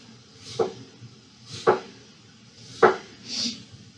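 A knife slices vegetables into thin pieces for curtido, giving three or four spaced, close chops on a wooden cutting board with quiet pauses between strokes.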